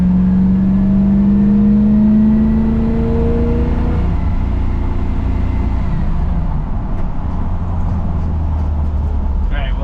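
A 1954 Chevy cabover truck drives and shifts gears, its engine droning loudly up close with a rising whine that drops away as the gear changes, then settles into a lower steady road rumble.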